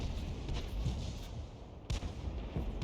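Deep artillery booms from a 105 leFH18B2 self-propelled howitzer in World of Tanks roll out over a rumbling battlefield, with one sharp, heavy report standing out amid distant thuds.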